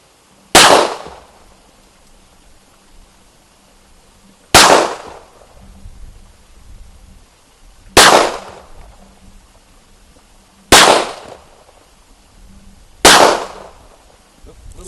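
Five loud gunshots from a 10mm EAA Witness pistol ring out outdoors at steady intervals of roughly three seconds, each a sharp crack followed by a short fading echo.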